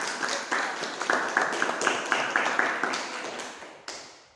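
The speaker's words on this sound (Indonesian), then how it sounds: "Ya, tepuk tangan untuk kelompok 2." Scattered applause for a student group after a practical demonstration on an engine ECU, made of separate hand claps in an uneven rhythm that thin out toward the end.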